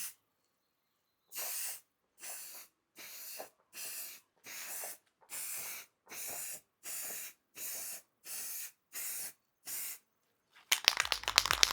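Short repeated bursts of a spray gun laying clear coat on a custom scrambler motorcycle during a DIY paint job, about a dozen evenly spaced hisses of a second or so each, close and fairly loud, ending in a louder rough noise.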